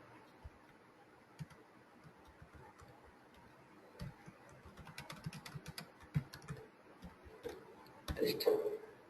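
Code being typed on a computer keyboard: soft, irregular key clicks that come in uneven bursts, quiet at first and denser toward the end, with a faint voice murmuring in the background.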